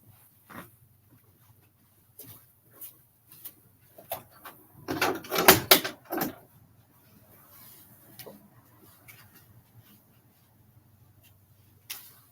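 A door being checked and locked indoors, scattered knocks and clicks followed by a louder cluster of rattling and clunking handle and lock sounds, then a few faint taps and one last click.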